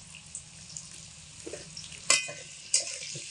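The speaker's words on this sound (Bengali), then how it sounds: "এবারে গরম তেলের মধ্যে আলুগুলোকে দিয়ে প্রথমে ভেজে নেব" Potato slices sizzle steadily in hot oil seasoned with salt and turmeric, a constant close crackle broken by a few louder stirring scrapes and clanks.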